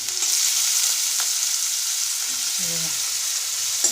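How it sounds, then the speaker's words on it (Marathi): Chopped onions fry with curry leaves in a pan for a bitter gourd bhaji, giving a steady close sizzle throughout with a few faint utensil taps and stirring scrapes. "कांदा थोडंसं फ्राय करायचं आपल्याला मस्त लाल होईपर्यंत"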